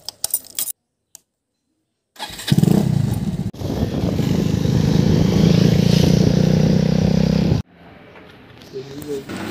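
A motorcycle engine starts up nearby and runs at a steady, loud idle for several seconds before cutting off, with brief quieter sounds before and after.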